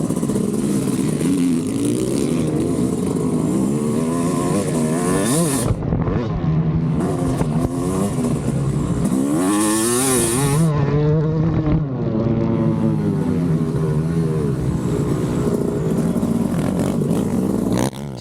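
A Yamaha YZ250 two-stroke motocross bike screams continuously as it's ridden hard through laps, its engine climbing and dropping with repeated revs and shifts, loud and close from the rider's position without pause.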